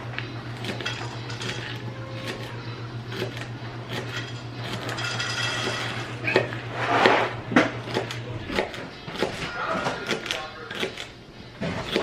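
Celery being chopped into small pieces on a board, a rapid run of crisp knife taps throughout, with a steady low hum for most of the clip and a voice talking briefly.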